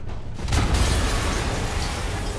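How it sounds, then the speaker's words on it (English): A loud, sustained explosion in the Spider-Man PS4 video game, a deep rumbling boom with crackling debris that bursts in suddenly and roars on. "an explosion just..."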